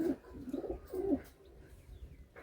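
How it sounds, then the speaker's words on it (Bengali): Desi pigeons coo in a loft, three soft rounded coos in a steady rhythm over the first second and a half, close and moderately loud, then fading to faint bird murmurs. "এই পায়রা কিন্তু খুবই কম"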